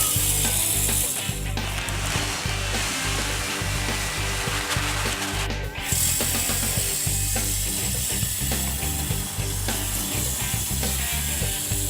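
A Moose fertilizer spreader runs continuously outdoors, its motor giving a steady mechanical whir and rattling drone, close and unbroken throughout.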